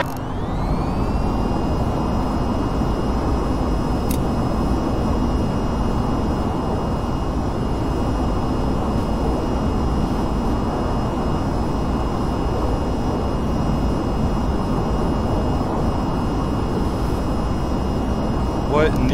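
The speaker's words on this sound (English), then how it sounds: "cleared for vertical takeoff" A jet aircraft in the video game VTOL VR spools up for a vertical takeoff, loud continuous engine roar with a rising whine that holds steady throughout, and a voice talking over it.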